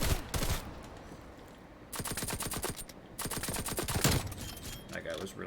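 Bursts of AUG rifle fire in a shooter video game crackle in rapid strings, several separate volleys broken by short pauses, fairly loud and close.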